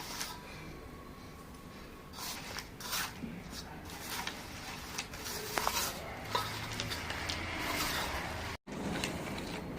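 Roasted sesame seeds are stirred and sautéed in a pan, giving soft scraping, tapping and light crackling with no steady rhythm. Quiet kitchen background, with a short break near the end.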